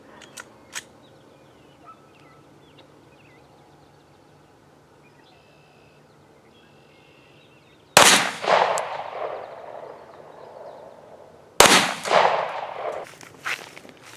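Two loud 9mm shots from a Smith & Wesson M&P 2.0 pistol fired outdoors at a target, several seconds apart, each a sharp crack followed by a long echo, after a quiet stretch with faint clicks.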